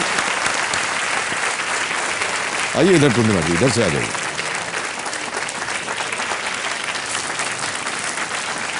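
Studio audience applause on the quiz show Kaun Banega Crorepati for contestant Purnima, a dense, steady wash of clapping lasting throughout, with a host's voice talking over it partway through.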